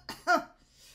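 A person imitates a cough with two short, sharp bursts, the second louder, quiet and close, with near silence after.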